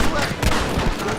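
Dense gunfire crackles in a Red Dead Redemption shootout, a loud unbroken barrage of overlapping shots with no pause.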